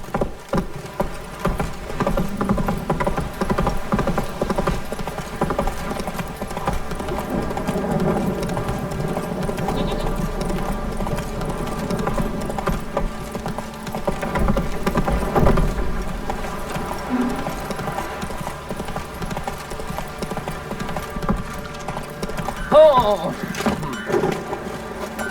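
Roach, the horse in The Witcher 3, gallops with steady clip-clop hoofbeats under game music and ambience, with a brief louder accent late on and no talking.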